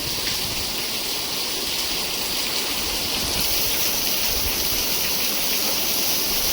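Heavy afternoon downpour in Chobari village, a loud, constant roaring hiss of rain pouring down, close and unbroken, with no voices.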